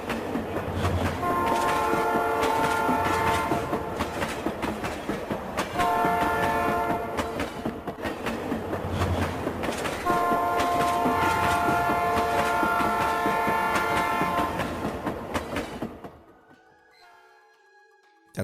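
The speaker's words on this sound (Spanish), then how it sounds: "el silbido de un tren en la lejanía" A train whistle sounds in repeated long, tonal blasts over the rolling clatter of railway wagons on an old railway line, loud and steady for about fifteen seconds before fading abruptly into near silence.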